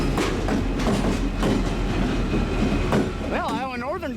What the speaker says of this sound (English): Southbound CN on the Osage Sub.